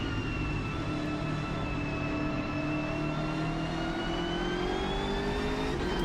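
A BMW race car engine lapping in the Automobilista 2 racing game, a steady loud droning whine with rising harmonic pitch as it accelerates, continuous and close with no talking.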